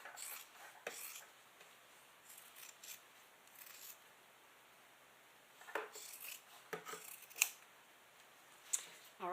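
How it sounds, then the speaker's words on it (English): Scissors making tiny snips in the lining of a quilted leather clutch, a scattering of soft close clicks and brushes, faint and irregular over a quiet background. "I am going to put little snips, and all I'm doing is just doing tiny little snips."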